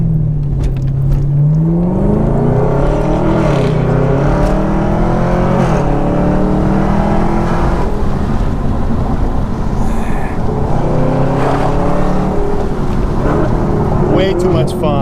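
A Chevrolet Camaro ZL1 with an automatic transmission accelerates hard, its engine note climbing steadily in a loud, sustained roar heard from inside the car, with no talking over it.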